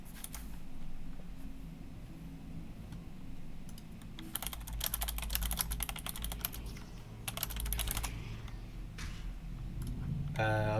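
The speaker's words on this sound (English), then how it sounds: "I was typing, my bad" Computer keyboard typing under a VRML match cast, rapid clustered clicks in bursts over steady background noise, moderately close and fairly faint.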